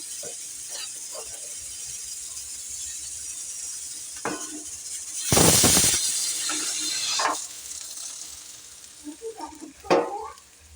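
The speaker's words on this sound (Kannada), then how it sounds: "ಪಲ್ಯ ಮಾಡಕತ್ತೀನಿ ಇಲ್ಲಿ ಒಂದೇ ಉಳ್ಳಾಗಡ್ಡಿ ಹಾಕಿ" Onion palya with green chili sizzles in a pan as a spoon stirs and scrapes it, a steady hiss with louder bursts of stirring and occasional clinks.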